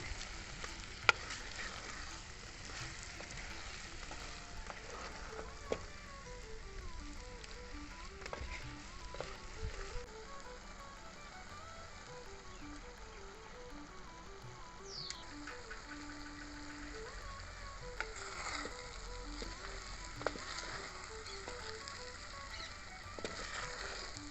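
Konam fish pieces frying in a pan, a steady quiet sizzle running throughout with occasional small clicks and scrapes.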